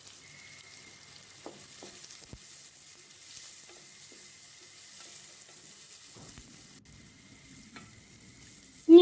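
Onion and carrot frying in oil in a pan, a quiet steady sizzle with occasional clicks and stirring scrapes, a brief louder knock at the very end.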